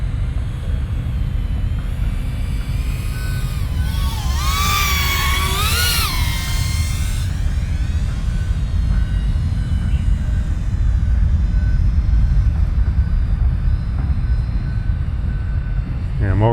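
A BetaFPV Beta95x whoop drone with a DJI FPV Caddx Vista flies, its props buzzing steadily and loud under rumble, with a swooping pitch change midway; a person talks at times.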